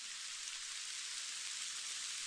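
Heavy snowfall on a Phalut mountain trek, a steady dense hiss like rain falling on surfaces, continuous and even throughout with no voices.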